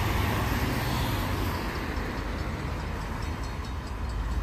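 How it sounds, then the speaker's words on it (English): A southbound Portland and Western Railroad locomotive power move passes in Oregon, making a loud, steady rumble of engine and rail noise throughout. "Southbound power move on the Portland and Western Railroad."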